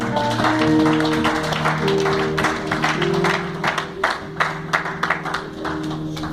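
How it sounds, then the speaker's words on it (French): Congregation clapping during a church worship service, steady rhythmic claps mixed with sustained music tones and voices, thinning into scattered sharper claps toward the end. "Nous allons applaudir le Seigneur."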